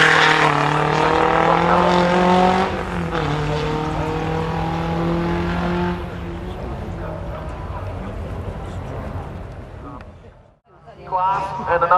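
A Triumph 2500 PI sits at the start line of a sprint race, its engine revving loud and steady, then easing to a lower idle before a short burst of noise near the end. Commentary runs over it.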